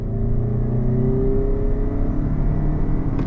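A 2026 Toyota Camry XSE hybrid pulls under throttle, a steady engine and motor whir rising gently in pitch, heard from inside the cabin.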